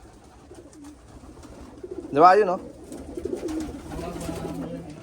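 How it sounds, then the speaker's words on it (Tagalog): Pigeons coo in a loft, with one clear, close coo rising midway over quieter rustling, while a person talks nearby. "So ito yung mga ibon."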